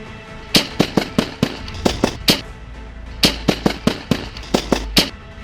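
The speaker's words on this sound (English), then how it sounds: "She fired a total of 10 rounds, striking one deputy and an innocent bystander." Gunshots from an AR-15 rifle during a police custody shootout ring out as two rapid volleys of loud, sharp cracks, about a dozen shots in all, separated by a brief pause.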